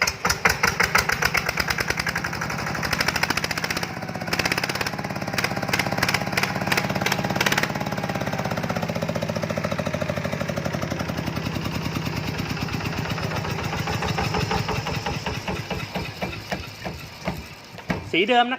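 An RT120 motorcycle engine idles and then revs repeatedly with a rough, throbbing rhythm, loud and close, with someone talking over parts of it.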